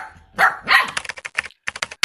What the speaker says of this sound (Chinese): 第四名，汪汪声